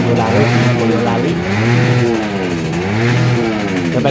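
A standard novice-class two-stroke underbone motorcycle engine revving repeatedly in a racing paddock in Mijen, Semarang, the pitch rising and falling in loud, close waves with a raspy buzz.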